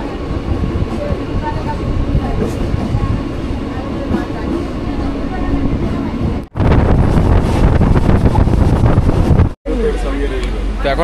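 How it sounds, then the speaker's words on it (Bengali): Steady loud rumble and rattle of the Tamluk–Digha train running between stations, with wind buffeting and two brief dropouts, and some talk underneath. "উইশেল জাস্ট দিয়েই ট্রেন ছেড়ে দিল কাঁথি স্টেশন থেকে"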